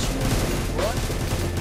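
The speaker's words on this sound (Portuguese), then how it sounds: "De onde que eu tô tomando tiro?" Rapid gunfire in the Minecraft mod Crafting Dead during a clan-versus-clan match, a dense crackling burst over game noise, with a voice briefly present.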